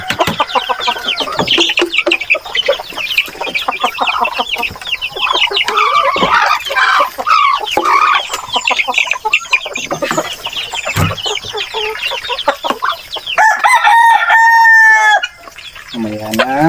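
Chickens clucking steadily and close, with a rooster crowing loudly near the end and faint voices in the background.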